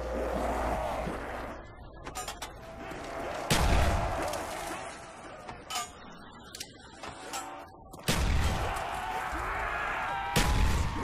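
Grenade blasts in Call of Duty Black Ops Zombies on the Ascension map, several loud low booms bursting out of a dense game mix of gunfire and clatter, with sharp thumps near 3.5, 8 and 10.5 seconds.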